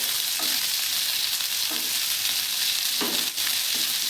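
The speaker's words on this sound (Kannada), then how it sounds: "ಎಲ್ಲ ನೀಟಾಗಿ ಮಿಕ್ಸ್ ಮಾಡಿಕೊಂಡು ಫ್ರೈ ಮಾಡ್ಕೊಳ್ಳಿ" Chopped onions sizzle and fry in a pan for restaurant-style mushroom Manchurian, a loud constant hiss broken by several scraping stirs at regular intervals, with no talking.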